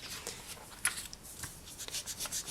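Polymer clay slice being burnished down onto paper for mod cane earrings, a soft, close rubbing and scuffing in short irregular strokes, very quiet and with no voices.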